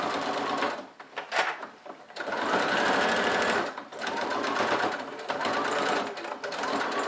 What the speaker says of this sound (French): Je continue ma couture.